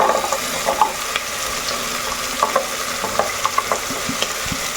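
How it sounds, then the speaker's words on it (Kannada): Mixed vegetables and green peas frying in a pan for masala rice, a steady close sizzle with occasional scraping and stirring clinks, no voices. "ತರಕಾರಿನ ಸ್ವಲ್ಪ ಒಗ್ಗರಣೆ ಜೊತೆ ಫ್ರೈ ಮಾಡಿ"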